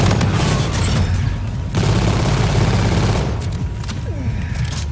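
Dense, loud machine gun fire in the video game Call of Duty: Infinite Warfare rattles almost without pause, with heavy booms and explosions layered in and a brief lull near the middle.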